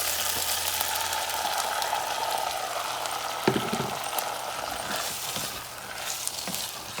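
Black beans tipped into a pot of potatoes sizzle steadily in hot fat, a continuous frying hiss with a few soft clunks as they land and settle.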